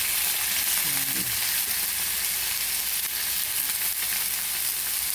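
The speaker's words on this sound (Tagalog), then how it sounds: "Ilagay ko na yung kamatis ko. Saka yung sibuyas na rin." Tomatoes and onions go into a hot pan for a fish-head miso sinigang, giving a steady loud sizzle and fry that fills the whole clip, with a brief low clatter early on as the vegetables drop in.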